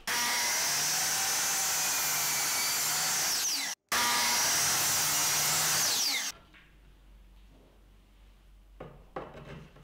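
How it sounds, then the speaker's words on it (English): Power saw cutting wooden window casing molding to length: a loud, sustained whining motor drone runs for about six seconds with a brief cut-off midway, then falls away to quiet handling noises and small knocks. "First, I'm going to cut the casing to length"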